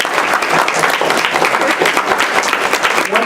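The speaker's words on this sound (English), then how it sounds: "could you all give them a round of applause?" An audience at an evening event breaks into loud, sustained applause, dense steady clapping from many hands throughout, close and full.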